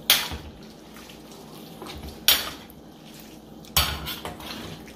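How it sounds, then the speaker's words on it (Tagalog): A metal utensil scrapes and clanks against a pot of cooking lomi three times at even intervals, with quiet bubbling and shuffling in between. "So yan, haluin lang natin."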